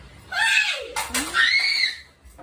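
Two young children, a boy and a girl, let out a pair of short, shrill screams at a New Year celebration, close and loud.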